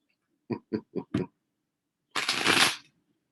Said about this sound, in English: I try to shuffle without my forearms on the table